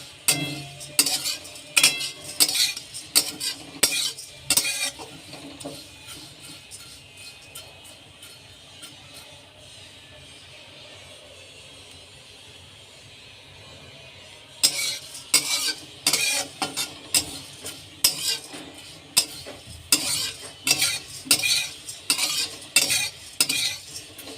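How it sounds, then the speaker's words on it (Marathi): Thick poha (flattened rice) dry-roasted in a pan, stirred in rapid rattling scrapes of utensil against metal, loud and close, with a quieter stretch of low sizzling in the middle before the brisk stirring resumes. "पोहे चेक करायचे आहेत असा आवाज कुडूम कुडूम असा आवाज यायला लागला"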